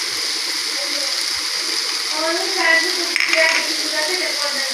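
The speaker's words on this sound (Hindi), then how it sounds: "अब हम इसमें ऐड करेंगे सोया सॉस" Soy sauce poured into sizzling chicken and vegetable spaghetti in a hot pan, giving a steady bright frying hiss with a brief louder surge of splattering partway through.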